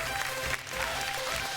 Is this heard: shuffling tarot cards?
no